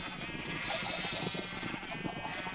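Sheep bleating in the Minecraft video game, a steady game-sound bleat running throughout against a dense, busy background.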